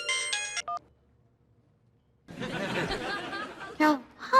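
A short electronic ringtone melody plays, then silence, followed by chatter and laughter from several people.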